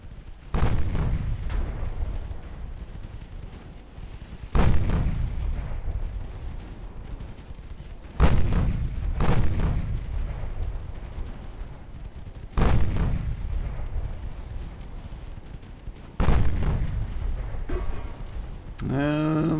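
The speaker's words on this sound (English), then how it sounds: "let's get the 3-inch guns on the go and burn that sucker down" 3-inch naval guns firing in the Ultimate Admiral Dreadnoughts game, heavy booming blasts repeating roughly every four seconds, each with a long rumbling decay, over faint background music.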